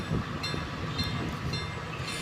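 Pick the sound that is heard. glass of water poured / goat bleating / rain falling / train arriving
train arriving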